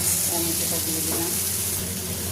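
Tomato tipped into a hot kadai of onion and garlic for a prawn curry, giving a steady, loud, close sizzle and hiss that holds throughout with faint stirring scrapes.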